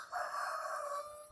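A Cream Legbar rooster crows once, a single drawn-out, steady call that holds for about a second before trailing off, moderately close and fairly quiet, with no voices.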